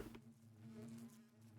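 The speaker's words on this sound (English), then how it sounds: "And then place our 5 adult bees in here." Bees buzz inside a machine in the Minecraft modpack All The Mods 10, a steady low drone with a faint hum that holds evenly throughout, with no talking.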